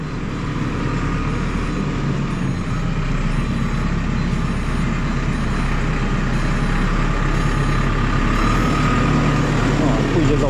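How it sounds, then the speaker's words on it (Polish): A freight forwarding truck arrives to load heavy wheels, its engine a steady, fairly loud rumble throughout with intermittent reversing beeps repeating at regular intervals, amid ambient outdoor noise. "Właśnie przyjechało auto ze spedycji podesłane."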